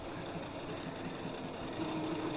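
A sewing machine running continuously with a fast, even mechanical stitching rhythm, close by and fairly quiet, with no speech.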